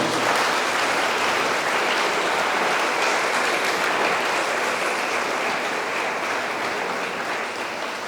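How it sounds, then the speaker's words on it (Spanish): A church congregation applauds the young people at a Christmas-season dawn mass, a loud, steady wash of clapping that holds for the whole stretch without a break. "un fuerte aplauso a los jóvenes"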